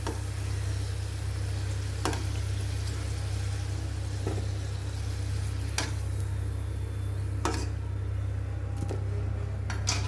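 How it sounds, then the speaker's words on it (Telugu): Amla gooseberries fry in a little oil on a stove, giving a steady low sizzle over a constant hum, broken by occasional sharp clicks and scrapes of stirring. "మొత్తం ఉసిరికాయలన్నీ ఇలా వేపేసుకోవాలి."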